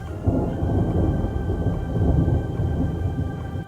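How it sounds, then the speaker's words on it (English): Thunder rumbles low and continuous during a rainstorm, a rolling roar that swells and fades over several seconds with no voices. "That was thunder."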